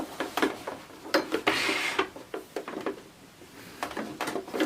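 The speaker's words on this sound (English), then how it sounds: "you move that to your sewing machine, and then you're just going to stitch the edge" Quiet mechanical whirring in short runs with clicking and rattling as a sewing machine stitches a fabric edge for puff sleeves in bursts, with one longer steady run in the middle.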